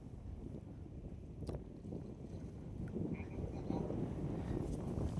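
Strong wind blows across a large lake, making a constant rough rumble of microphone buffeting with the lapping of waves beneath it. It grows slightly louder toward the end.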